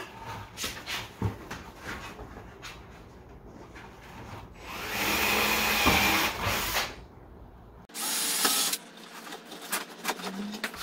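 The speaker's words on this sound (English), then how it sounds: "I'm just going to drill some holes." A power drill whirs in a couple of sustained bursts, drilling holes in a plastic bucket, amid intermittent tapping and handling noises, fairly close.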